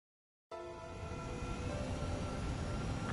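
Fighter jet taxiing in the air combat game Ace Combat 7: the engine cuts in abruptly after a brief silence and settles into a steady, loud whining roar with tonal turbine harmonics that holds to the end.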